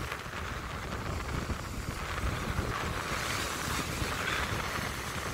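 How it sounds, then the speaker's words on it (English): Strong wind on the Blackpool seafront promenade, a steady loud roar and buffeting across the microphone with no voices. "that wind does seem to be getting stronger as well"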